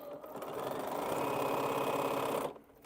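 A sewing machine stitches quilt pieces in one continuous close run of rapid, buzzing needle strokes for over two seconds, then stops abruptly.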